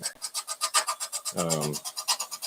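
A regular chisel, not high-speed steel, carves a wooden beer mug with a steady, rhythmic rasping at close range, while a brief voice cuts in midway.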